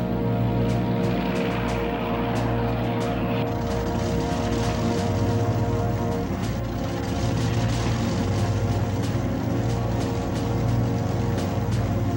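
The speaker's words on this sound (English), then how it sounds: "Six squadrons of Mitchells and 6 squadrons of Lightnings took off for Rabaul." P-38 Lightning fighters and B-25 Mitchell bombers taking off in World War II, a loud continuous drone of piston aircraft engines and propellers with steady harmonic hum, dense and close throughout.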